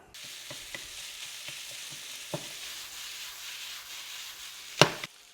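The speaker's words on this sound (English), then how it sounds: "I want this sausage, I want it busted up real good, real fine, so I'm really working it." Ground breakfast sausage browning in a pot for a meat-loaded chili, a soft continuous sizzle with repeated dull knocks and scrapes as a utensil breaks the meat apart, and a louder clatter near the end, fairly faint and close.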